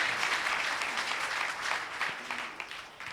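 An audience at a Bhagavat Katha religious discourse at Janki Ghat, Ayodhya, claps in a dense, steady wash of applause that lasts the full few seconds without a break.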